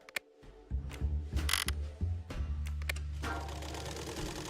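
A sewing machine that had refused to start now runs, its motor and needle mechanism whirring with a steady low hum and busy mechanical clatter, close by and with no voices.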